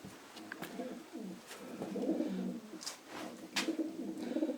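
A racing pigeon coos softly several times in low, rolling phrases, close by and fairly quiet, with faint rustling between the calls.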